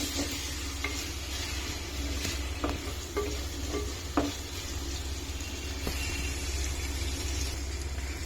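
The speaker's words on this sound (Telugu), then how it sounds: "అల్లం వెల్లుల్లి పేస్ట్ వేగింది" Ginger garlic paste frying in hot oil in a pan for a traditional fish curry, a steady close sizzle with occasional stirring scrapes and no talking.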